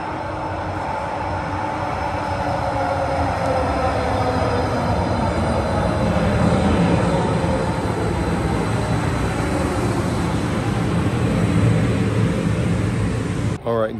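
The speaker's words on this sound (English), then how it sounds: "my train is currently coming. I believe you can hear it from where you are" A train rumbles and roars continuously nearby in downtown Edmonton at night, a broad heavy drone with metallic squeals as it pulls into the station, no voices.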